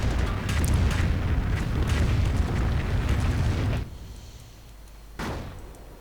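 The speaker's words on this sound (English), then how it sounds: "Incendiary grenades and a Calliope barrage straight on the Panzer Grenadiers." A Calliope rocket barrage in Company of Heroes hits Panzer Grenadiers as a dense rumbling roar of overlapping explosions, loud for nearly four seconds, then it drops away and one more distant boom lands later, with no talking.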